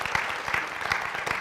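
Evening audience applauds a man being honored, a brief, even patter of many hands clapping together with a few slightly stronger claps punctuating the steady wash.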